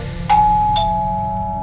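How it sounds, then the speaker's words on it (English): Two-tone doorbell chime, a bright ding followed by a dong about half a second later, ringing clearly indoors with the tones fading slowly over a low background hum; no one speaks. "It's a doorbell."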